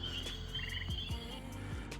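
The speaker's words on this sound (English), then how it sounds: "what'd you think of Eastern Gray Tree Frogs here filming?" Eastern gray tree frogs call outdoors in a steady chorus of trilling croaks, several overlapping voices with a low background hum and no talking.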